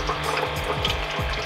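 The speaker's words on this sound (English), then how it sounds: "looks to me now like we're getting clean, clear water now" Clean water flows out of a Bartesian cocktail machine during a rinse cycle, a steady close gurgling stream with a low pump hum beneath it and no voices.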